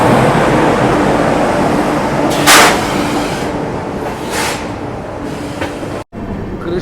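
The Kota Patna Express sits on the rails while a rumbling train noise fills the air, loud and steady, with a few sharp hissing bursts and a brief dropout near the end.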